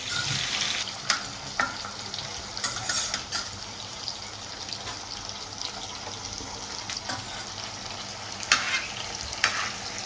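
Fresh kalite fry in a hot pan with a constant sizzle, broken by scattered clinks and scrapes as the pieces are flipped to cook the other side.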